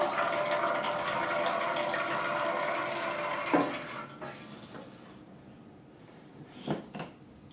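Water from a ZeroWater 23-cup filter dispenser pours in a steady close stream for several seconds, then stops, leaving a few faint drips and light knocks.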